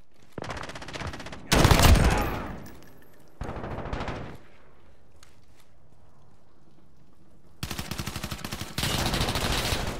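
First-person shooter gunfire, several loud bursts of rapid automatic shots separated by quiet gaps, one heavier blast near the start, close and harsh.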